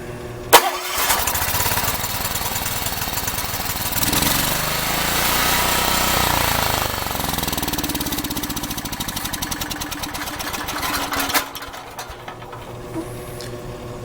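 A Makita G4101R generator with a Robin (Subaru) engine starts up and runs, its loud, steady mechanical drone rising and settling as the governor holds speed, then cutting off near the end with no talking.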